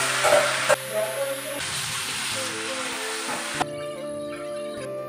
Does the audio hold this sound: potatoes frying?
yes